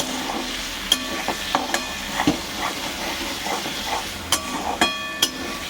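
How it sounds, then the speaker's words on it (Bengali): Paneer curry frying with whole spices that were fried earlier, a steady sizzle with scattered sharp spoon clinks and scrapes on the pan, nearby and with no voices. "এবার ভাজা মশলাটা দিয়ে আর একটু ভাজবো"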